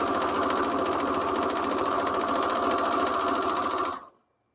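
A sewing machine runs steadily while stitching scrap fabric for a tote bag, a close, loud, even mechanical whir that stops abruptly near the end.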